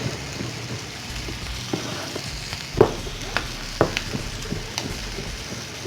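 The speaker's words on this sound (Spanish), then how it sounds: "Y eso también lo vamos a sofreír." Ingredients for a rice dish sautéing in a pan, a steady close sizzle with occasional stirring scrapes and clinks, no voices over it.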